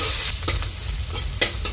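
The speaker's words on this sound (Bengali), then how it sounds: "পেঁয়াজটা একটু হালকা করে ভেজে নিব।" Onions fry in a hot pan with cumin, giving a steady, close sizzle, while a spoon scrapes and stirs them in a few brief strokes.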